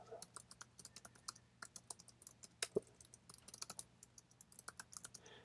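Rapid, quiet typing on a computer keyboard, with dense irregular key clicks and one sharper tap partway through.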